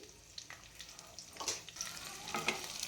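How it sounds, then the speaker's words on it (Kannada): Two sliced onions fry in hot oil with kasuri methi in a pan for egg pulao, a faint soft sizzle with occasional light scraping stirs, close and quiet with no talking. "ಈರುಳ್ಳಿ ಸಾಫ್ಟ್ ಆಗೋವರೆಗೂ ನಾವು ಫ್ರೈ ಮಾಡ್ಕೊಬೇಕು"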